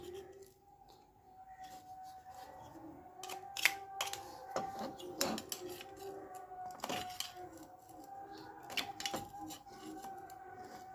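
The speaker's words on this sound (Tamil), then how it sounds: "இப்போ இதை ஓப்பன் பண்ணிடலாம் ஸ்க்ரூ ட்ரைவரில் மைனஸ் எண்டை வச்சுட்டு இந்த மாதிரி தின்னணும்" A flathead screwdriver pries open a Denso radiator fan from a Maruti 800, giving sharp plastic snaps and clicks scattered irregularly, several loud cracks standing out against a quiet background.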